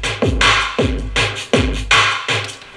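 Hardcore dubstep drum beat programmed in beatmaking software: heavy kick drops with sweeping low tails and bright crashing snare-like hits repeat in a steady loop, loud and alone with no talk.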